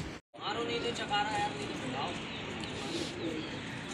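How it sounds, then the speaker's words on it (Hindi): Pigeons coo softly and repeatedly against a busy background of chatter and bird chirps. "कबूतर उठा रहे हैं दोस्तों"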